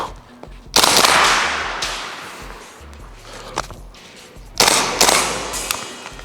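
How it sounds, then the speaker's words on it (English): Two rifle shots fired at a target on a range, each a loud sharp crack with a decaying echo, spaced several seconds apart with quiet between them. "There, I think we got the 2 shots."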